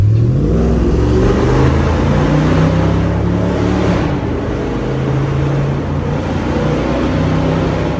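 A tuned Mercedes CL55 AMG engine revs hard in a tunnel, a loud close, rising and falling growl with strong echoing resonance throughout, and no talking.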